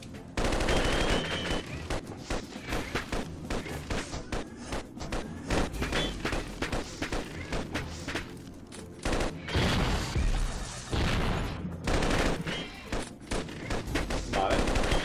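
Rapid bursts of gunfire in the video game Epoch crackle over and over, automatic volleys and single shots mixed throughout, loud and dense.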